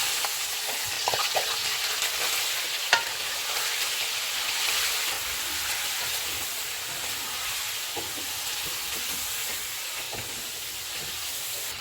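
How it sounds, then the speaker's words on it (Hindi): Pieces of chicken sizzle steadily in hot oil over a full flame, with occasional scraping and stirring clicks against the pan, a constant hissing fry throughout. "इसमें चिकन डालेंगे और इसको गोल्डन फ्राई करेंगे।"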